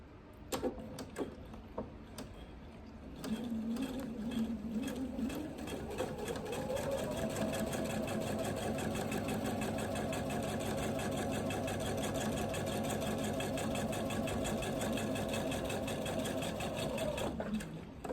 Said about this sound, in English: I'm going to be able to sew this in a straight line